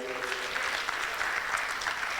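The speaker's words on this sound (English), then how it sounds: "Let's give a big round of applause" Audience applause at a lecture, a steady wash of clapping from a seated crowd, fairly soft and continuous throughout.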